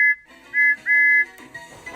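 Thomas the Tank Engine's wonky steam whistle in an animated scene gives two short, thin sustained toots with a brief break, sounding slightly off and strained, followed by faint background rumble.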